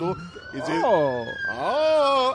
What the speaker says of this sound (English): that was a siren that was on the computer